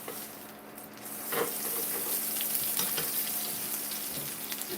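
Pork loin sizzles and crackles steadily in a hot frying pan, a continuous close hiss with scattered pops and spits.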